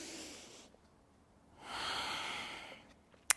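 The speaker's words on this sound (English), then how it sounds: "Breathing in through the nose and out through the nose." Slow nasal breathing during a yoga session: a faint inhale at the start, a pause, then a longer, louder exhale through the nose, ending with a small click.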